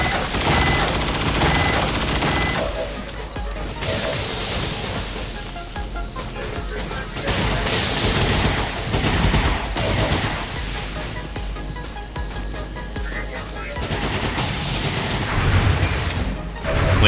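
Gunfire in the video game XCOM 2: dense, continuous volleys of shots with booming impacts, loud and sustained across the whole stretch.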